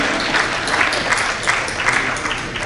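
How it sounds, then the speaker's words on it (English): Applause from an audience at an international trade forum, a moderate, steady patter of clapping lasting under three seconds, heard a little distant with no one speaking. "Please give him a warm round of applause."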